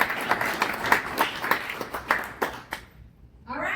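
An audience at a Cincinnati AI meetup claps for the event's sponsors, a moderate spread of individual claps with distinct sharp hits that fades out after about three seconds, followed by a voice starting to speak.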